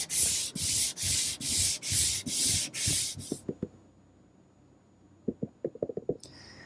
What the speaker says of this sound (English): it might seem odd when you're sanding this tiger maple